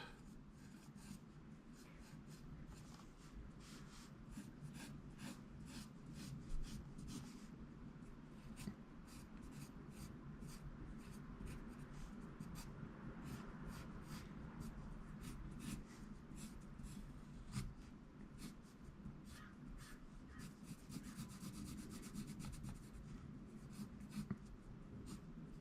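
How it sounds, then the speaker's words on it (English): An HB pencil scratches across paper in quick, closely spaced strokes, a soft but steady scratching and rubbing heard up close and alone. "Let's take an HB pencil and go over it like this."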